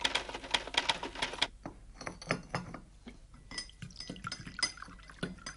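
Someone types at a keyboard in an office setting, with quick, uneven, close clicking keystrokes that run continuously and have no talk over them.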